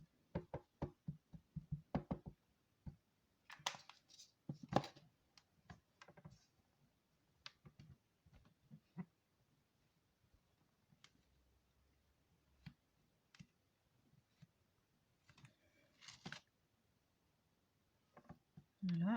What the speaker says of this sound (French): pour ancrer, je retourne mon pad et je tapote